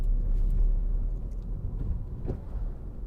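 Inside a 2013 Suzuki Swift 1.2 SZ3 three-door on a test drive, the engine gives a low, steady rumble with road noise while the driver shifts up into fifth gear, and the hum dips slightly during the change.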